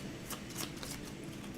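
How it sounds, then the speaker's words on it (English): A deck of game cards for a solo tabletop session is shuffled, giving a soft, quick riffling flutter with a few crisp snaps, close and quiet, with no talking. "I'll shuffle these up."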